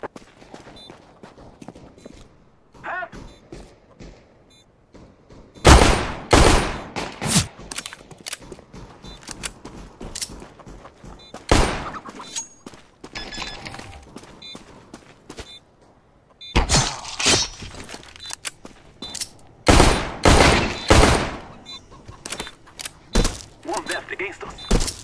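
Gunfire in Counter-Strike: Global Offensive during a bomb plant, heard as several sharp, loud bursts of shots separated by quieter stretches, mixed with footsteps and players talking.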